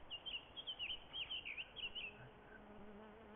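Insects buzz around a campfire in the survival video game DayZ, a steady near drone broken by short high whines as individual bugs pass close, with no talking.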